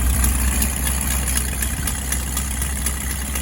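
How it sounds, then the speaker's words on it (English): An old 1980s Ford F-150 pickup engine idles steadily after fire damage, giving a low continuous rumble with a faint ticking pulse, close and loud with no voices. "So, what it does is it idles for a little bit."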